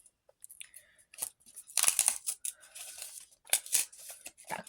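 Close-up crinkling and ripping of a small paper surprise packet being torn open, in short irregular bursts with brief pauses between.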